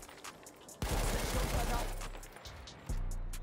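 Bursts of IMG machine gun fire in Battlefield 1, with a loud rapid volley followed by a second burst after a short pause, heavy and close.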